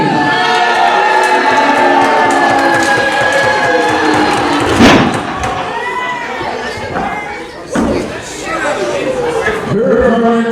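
A live pro wrestling crowd reacts as a challenger from South Auckland is introduced, with a loud, steady wash of voices and cheers, some jeering tones, and a brief thump from the ring midway.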